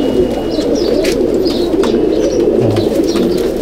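Madrasi pigeons of the Chennai and Andhra type in a loft at Howrah coo continuously in a low, dense, overlapping murmur, with a few brief higher chirps above, and no talking.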